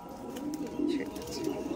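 Andhra Madrasi pigeons in a loft give a short, soft throaty coo close by, over a faint background.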